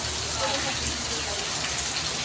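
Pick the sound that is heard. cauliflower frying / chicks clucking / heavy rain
heavy rain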